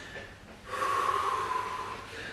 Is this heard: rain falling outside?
no